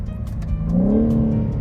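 2024 BMW G83 M4 Competition engine rises in a smooth rev from inside the car, a close, steady drone that climbs in pitch and then holds.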